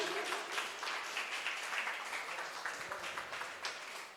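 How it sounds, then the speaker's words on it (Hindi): A gathering at a religious ceremony in Dhar, Madhya Pradesh, claps loudly at the call for applause, a steady crowd patter that starts strong and tapers slightly over four seconds, heard at a low overall level. "उनके लिए जोरदार तालियां बजाएंगे सभी"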